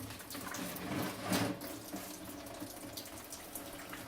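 Water drips and drains from an opened valve during a building shutdown, a faint, continuous trickling wash with a brief swell of gushing near the middle.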